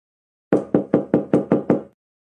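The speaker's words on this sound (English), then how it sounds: "I heard someone pounding on the door." Seven rapid, heavy knocks pound on a door in a steady rhythm, loud and close, with silence before and after.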